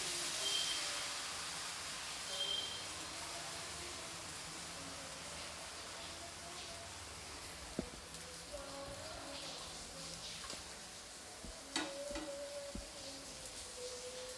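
Rava dosa batter sizzles on a hot griddle in a soft, steady hiss like light rain. Occasional faint clicks and scrapes break it up, and no one speaks.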